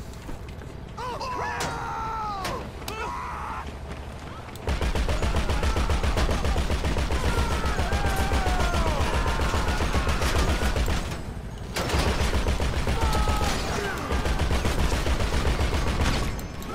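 Sustained automatic gunfire in GTA 5 Online, a loud rapid stream of shots that continues almost without a break, with brief lulls and a short quiet gap partway through.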